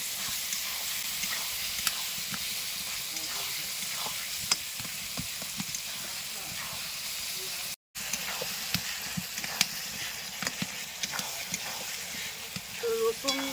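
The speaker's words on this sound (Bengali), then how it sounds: "এবার ভালো করে কষে নেব" Garlic and ground spices, including ginger, coriander and cumin paste, frying and being stirred in a pan for chicken kasha, with a steady close sizzle and scraping strokes running throughout.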